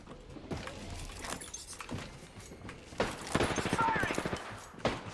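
Rapid bursts of gunfire rattle through an Apex Legends match, a dense volley building toward the end amid game effects and brief voice callouts.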